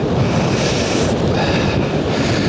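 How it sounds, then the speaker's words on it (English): Wind buffets a microphone fitted with a small wind muffler at a stormy coastal campsite, a continuous, loud, rumbling roar that barely changes, and no voices are heard. "I'm just hoping this wind noise, this wee wind muffler does the trick"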